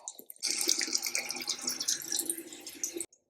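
Water gushes from a tap at a sink for face washing, a steady close splashing stream that starts suddenly and stops after about two and a half seconds.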